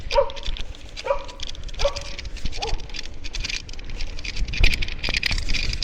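Small dogs bark several times in quick succession, then patter and scuffle around nearby amid background noise.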